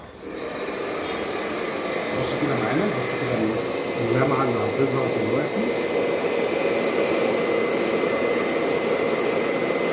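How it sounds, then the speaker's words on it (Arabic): A hot hair dryer blows steadily on hair treated with a restorative hair butter, a loud continuous whooshing roar that runs throughout while someone talks over it. "دلوقتي هنطبق استشوار سخن على الشعر"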